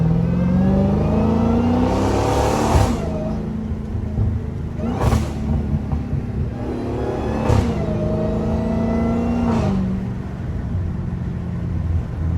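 Dodge Hellcat engine revving from inside the car, a loud rumbling drone that rises and falls through several pulls, with sharp gear-shift breaks roughly every two to three seconds.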